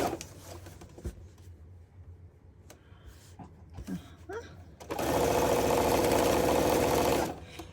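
A sewing machine stitches a quarter-inch quilt seam in one steady, close burst of rapid stitching lasting a couple of seconds, after a quieter stretch of small handling noises.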